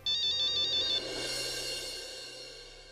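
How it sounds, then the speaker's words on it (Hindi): Phone ringtone ringing for an incoming call late at night, a bright repeating melodic pattern that plays loudly in the first second, then carries on slightly softer and fades, with no voices. "सॉरी शेखर, तुम्हें इतनी रात को मैंने फोन किया।"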